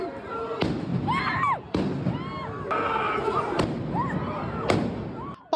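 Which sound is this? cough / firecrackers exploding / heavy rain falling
firecrackers exploding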